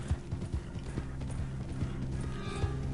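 Rapid, loud clip-clop hoofbeats of a galloping horse in a video game, steady rhythmic thuds with a faint whinny over engine-like background hum, no talk.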